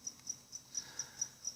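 Crickets kept in an enclosure chirp faintly in a rapid, regular series of short pulses, about seven evenly spaced chirps over a quiet background.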